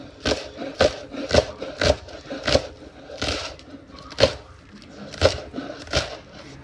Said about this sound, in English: I take the leek and I start slicing